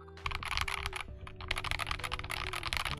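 A Kemove K87 tenkeyless mechanical keyboard with SA keycaps is typed on quickly, producing a close, steady stream of clacky keystrokes with a short pause near the start and no talking.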